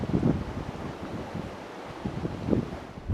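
An Oyster 595 yacht cracking along at 10 knots in flat water with 16 to 17 knots of breeze, giving a low, rushing wash of water and wind buffeting with a couple of swelling surges.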